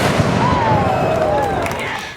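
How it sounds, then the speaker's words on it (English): A ceremonial cannon fires at an outdoor volunteer planting event in Jacksonville's Hemming Plaza, a loud, broad booming blast that rolls on and fades slowly over a couple of seconds. "With the firing of the cannon"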